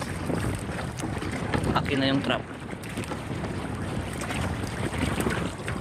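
Strong wind buffets the microphone over shallow sea during crab trapping from a boat, a loud roar with water movement, and a voice speaks briefly.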